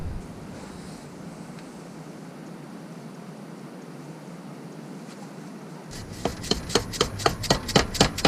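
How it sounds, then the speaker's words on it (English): A new pilot bearing being driven into a BMW E46 M3 crankshaft with a 22mm socket, heard as a quick series of sharp metallic taps near the end after a quiet stretch. "I'm going to tap it into there using a 22mm socket."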